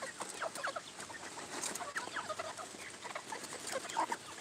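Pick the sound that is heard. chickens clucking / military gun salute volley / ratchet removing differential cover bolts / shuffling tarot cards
chickens clucking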